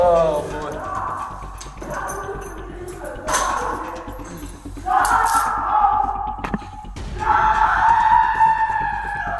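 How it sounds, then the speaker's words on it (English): A woman screams repeatedly inside a police cell, several long shrill outbursts separated by brief gaps, with clanks and movement in the room. "Thomas begins to scream bloody murder."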